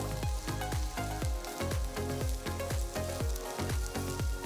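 Onion, garlic, ginger, cashews and green chillies sauté for mutton korma, a steady crackling sizzle in hot oil with rhythmic scraping stirs, close and soft, no talk.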